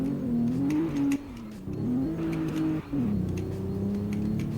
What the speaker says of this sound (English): I switched down to second gear and it started to like spin out almost.